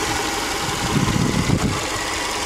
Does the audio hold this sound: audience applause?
no